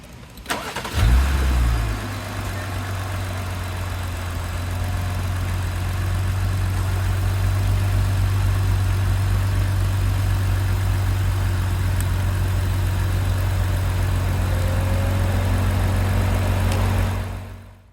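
A car engine, started with a jump starter, cranks and catches with a burst, then settles into a steady, loud idle that hums on for over fifteen seconds.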